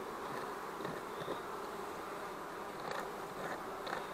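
Dense, steady buzzing of many honey bees in a hive, a continuous droning hum with no voices, close and even in loudness throughout.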